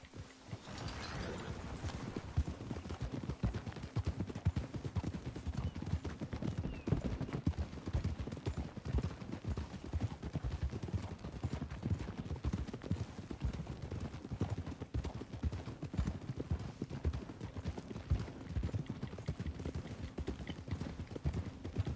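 Horse hooves clip-clopping steadily in Red Dead Redemption 2, a quiet continuous rhythmic patter with faint mechanical rattling and a brief whinny-like sound, no clear talk.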